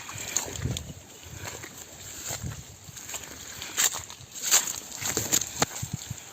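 Slow footsteps wade through a river in the Konkan, with soft irregular sloshes and splashes close by over a muffled outdoor background.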